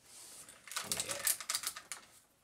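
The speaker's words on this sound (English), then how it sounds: "Nice clicky ratchet joints." A Pose+ Metal Series robot figure's ratchet joints are worked by hand, giving a quick burst of crisp, close clicks lasting under two seconds, fairly quiet with no speech over it.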